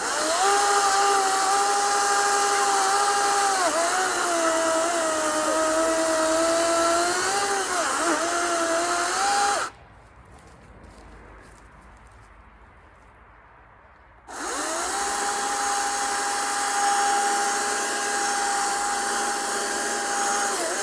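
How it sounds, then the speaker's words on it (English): A large chainsaw cuts through a big felled tree outdoors, running loud and steady under load with its pitch wavering, then dropping to a low idle for several seconds before revving back up to full cutting power. "Now I have my large chainsaw and I felled a large tree."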